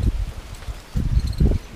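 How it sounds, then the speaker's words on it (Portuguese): Wind gusts buffet the microphone in low rumbling bursts, with a soft rustle between them, outdoors at a riverside campground in Tramandaí, Rio Grande do Sul, Brazil. "mas agora tem vento, mas o tempo tá lindo"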